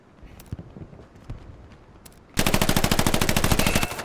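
Rapid close machine-gun burst in the World War II shooter Hell Let Loose, preceded by a few scattered distant single shots, then a loud continuous stream of fire for the final second and a half.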